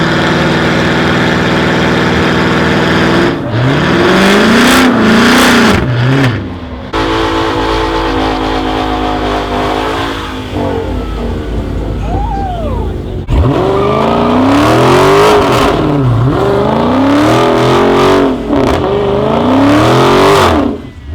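Loud engines of cars doing burnouts at a New York City street takeover, revving hard with rising and falling whines, some tire squeal, near and continuous, briefly dipping midway before roaring again.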